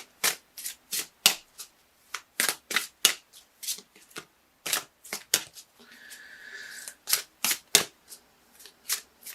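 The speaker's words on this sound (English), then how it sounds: "I'm just looking at these cards over here as I shuffle." Tarot cards being shuffled by hand, a series of crisp riffles and taps in irregular bursts, close up, with a short whirring sound partway through.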